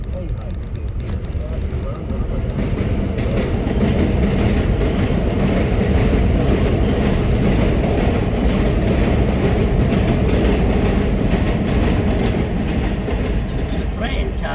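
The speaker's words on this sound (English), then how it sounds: "Choo-choo train, Charlie, choo-choo train." A train rumbles past a car driving through New York City, loud and continuous with rhythmic clatter, the roar swelling and holding steady for over ten seconds.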